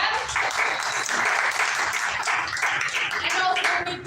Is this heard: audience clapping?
yes